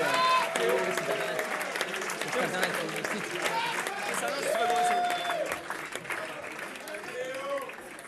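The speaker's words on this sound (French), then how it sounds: "On peut les applaudir s'il vous plaît" Concert audience at l'Entrepôt clapping, a dense steady wash of applause that fills the whole stretch, with a few whistles or voices poking through the crowd noise.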